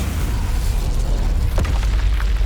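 A fire spell, Incendio, is cast in Hogwarts Legacy: a dense, steady roaring blast with a brief crackling burst near the middle, loud throughout.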